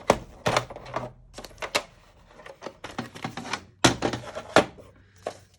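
Paper being trimmed off the bottom for a junk journal belly band: a run of sharp, separate cutting snips and taps in irregular bursts, close and fairly loud, with brief pauses between strokes and no talking.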